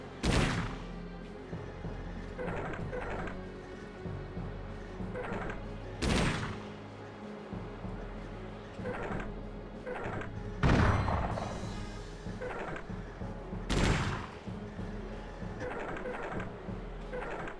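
Mechs trade fire in the Xbox 360 game Chromehounds, with several sharp, heavy shot bursts spaced a few seconds apart over a steady low mechanical rumble, plus occasional quiet voices.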